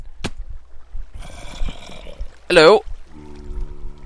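Flowing water in Minecraft gives a short rushing, pouring wash in the middle of the clip, mixed with a player's voice talking and game sounds.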